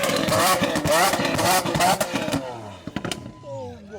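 A loud engine revs hard for about two seconds, then cuts to quieter idling with clicks and people talking nearby.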